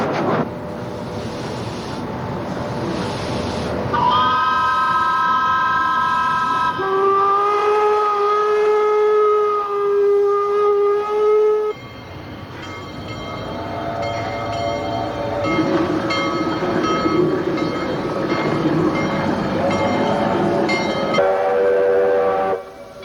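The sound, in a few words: steam trains with steam whistle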